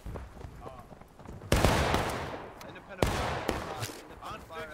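Musket volleys in the Civil War game War of Rights, with two loud, sharp blasts followed by echoing crackle from scattered shots, under shouted voices and battlefield noise.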